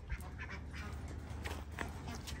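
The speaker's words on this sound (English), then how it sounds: "One of our ducks got out of the fence" A duck that has escaped its fence and is being herded back by a Rottweiler quacks faintly several times against a steady outdoor background.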